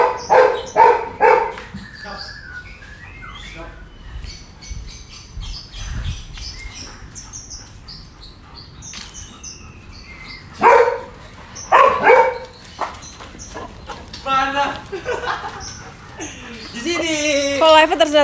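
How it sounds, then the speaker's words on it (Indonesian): A pet dog barks in short bursts at a home, with several sharp yaps near the start and another cluster around the middle, mixed with background voices and household noise. "Paling seneng gonggong si Prince ini"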